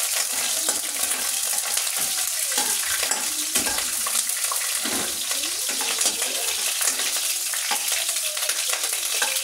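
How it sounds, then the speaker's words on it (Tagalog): Garlic sautéing in a pan is stirred, giving a steady close sizzle with irregular scraping and clinking of a utensil against the pan throughout, with no talking. "Haluin po natin yung ating nilagay na bawang."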